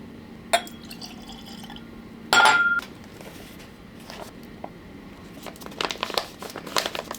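Single barrel bourbon is poured into small glass shot glasses: a sharp glass clink, a brief louder splash of liquid, then scattered drips and light taps, all close and without talk.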